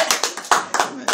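An audience claps in a short burst, several sharp irregular claps close and loud with no voices.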